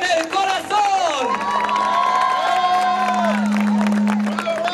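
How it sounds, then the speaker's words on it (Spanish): An audience cheers and applauds at a live event, producing a loud, continuous crowd roar with whoops and shouts that holds steady throughout, with a sustained tone rising near the end. "Que se escuche fuerte el aplauso para México en el corazón."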